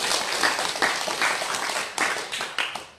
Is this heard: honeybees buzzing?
no